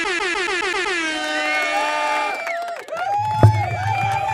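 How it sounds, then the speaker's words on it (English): A podcast intro sound effect of loud, wavering air horn blasts that slide in pitch, ending in a brief low burst with faint crowd noise beneath. "let's let the applause stop for a second. Yeah, standing ovation."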